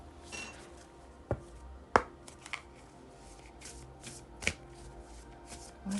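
A deck of oracle cards being shuffled by hand in a quiet room, soft papery riffling punctuated by several sharp taps and snaps as the cards are squared and struck.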